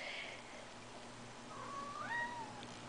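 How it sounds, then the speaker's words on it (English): A house cat meows for attention in the background, a soft drawn-out call followed by a longer rising-then-falling meow over a faint steady room hum. "that would be a cat begging for some attention in the background"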